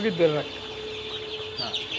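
Chickens on a poultry farm cluck in a few short bursts, close and clear, over a faint steady background hum.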